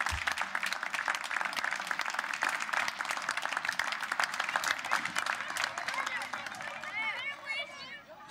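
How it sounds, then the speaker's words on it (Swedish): A theatre audience claps in dense, sustained applause before the curtain goes up. The clapping holds steady and then thins toward the end, with crowd murmur underneath. "Applåder redan innan ridån går upp."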